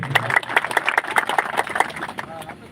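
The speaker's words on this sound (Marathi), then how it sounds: "आपल्याला विनंती आहे आपण जोरदार टाळ्या बाजूच्या सगळ्यांनी" Crowd applause at a live public gathering in Maharashtra honouring an elder, dense scattered clapping sustained throughout at moderate level with no clear talk on top.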